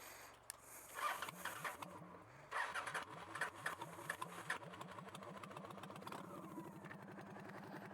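A 2002 Honda Shadow motorcycle engine cranks in a rapid, steady rhythm of starter pulses, catches, and then settles into an even, close idle, with no talking over it.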